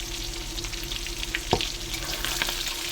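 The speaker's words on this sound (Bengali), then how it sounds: "তো চিকেনটাকে ফ্রাই করে নিই" Chicken pieces fry in hot oil for a chilli chicken dish, a steady close crackling sizzle with a brief stir or scrape midway and no talking.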